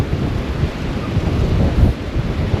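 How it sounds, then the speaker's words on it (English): Strong seaside wind on the Gallipoli coast buffets the microphone in a constant low roar, with gusts swelling and easing throughout and no voices. "Oh, it's windy, so I'm not sure how much you can hear me."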